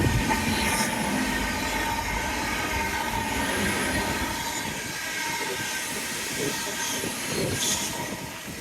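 A train rumbles steadily past on a seafront railway along a seawall with a broad hissing roar that holds for several seconds and then begins to ease off near the end.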